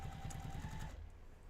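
A sewing machine back-tacks at the start of a seam, a steady low mechanical whirr of rapid stitches that runs for about a second, then stops and leaves a quiet hum.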